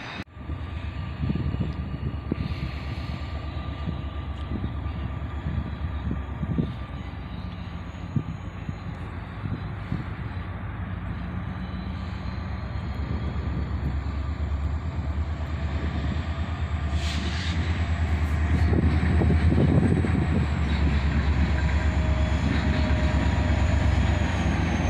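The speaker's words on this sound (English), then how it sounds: "I heard the rumble of an EMD locomotive" A CSX freight train led by an EMD GP40 locomotive running long hood forward rumbles past, a steady, loud engine drone and rolling wheel noise that builds toward the end.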